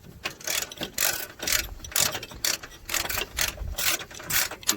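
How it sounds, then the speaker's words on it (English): A ratchet backs out a 10 mm radiator support bolt on a 2013 Honda Civic LX, its pawl clicking in quick repeated bursts of close, bright strokes that come in a steady rhythm with short pauses. "I'm taking out the 10 millimeter bolt right here for the radiator support"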